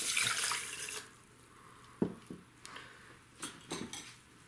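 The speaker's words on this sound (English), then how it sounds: "So I have half a cup of rice here" A cup of water poured into half a cup of rice in a rice cooker: a brief rushing splash up close, then scattered light clinks and knocks of the pot and utensils.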